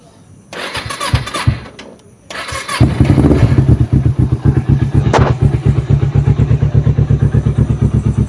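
A Kawasaki Ninja 250 FI motorcycle in sound condition is cranked with a few brief starter whirs, then fires up and settles into a smooth, even idle, loud and close, its pulses steady and rhythmic.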